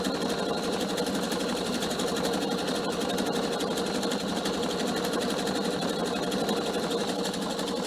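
PFA sewing machine stitching the hem of a cushion cover, a loud, continuous rapid mechanical whir and chatter running steadily and close throughout, with no talk.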